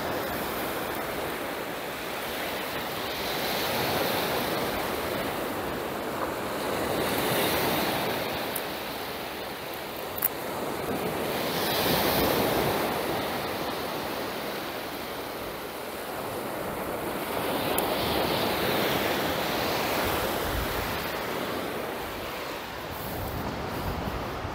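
Surf at Browns Bay driven ashore by onshore wind, steady broadband roar swelling and easing in slow waves every few seconds, with wind buffeting the microphone throughout.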